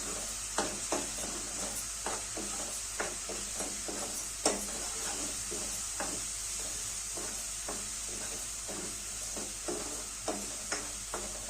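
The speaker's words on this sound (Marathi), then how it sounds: "याला कडन तेल सुटेपर्यंत असं चांगलं भाजून घ्यायचं आहे आपल्याला" Ground masala for whole masoor lentils, cooked dhaba style, roasts in hot oil with a steady close sizzle and hiss, broken by regular sharp taps and scrapes of a stirring spoon.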